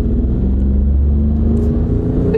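A car accelerates down a drag strip, its engine a loud, steady low rumble heard from close by without speech.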